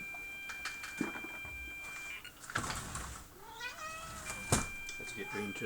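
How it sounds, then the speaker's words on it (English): A house cat meows a few times close by, rising and falling cries that stand out over a steady hum and faint electronic beeping from an old Spectravideo 318 home computer loading a program, with a voice murmuring underneath. "Get interrupted by a cat"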